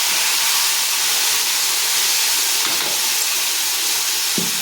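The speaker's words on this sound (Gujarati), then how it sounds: "અને આ અડદ છે એને વઘારી નાખશું" A loud, steady sizzling hiss of hot oil crackling continuously as urad dal is tempered in it, close up, with a faint clink near the end.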